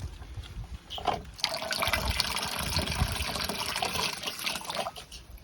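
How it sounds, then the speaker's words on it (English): Water pours and splashes steadily into a pig trough through a float valve, a continuous rushing fill after a brief pause, close and fairly loud with no talking. "so it just fills up like that"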